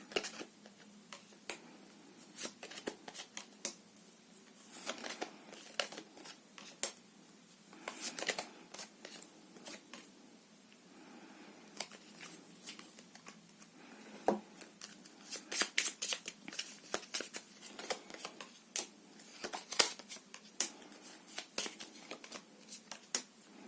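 Tarot cards are shuffled and laid out on a table in scattered crisp snaps and flicks, some in quick clusters, quiet against a near-silent room.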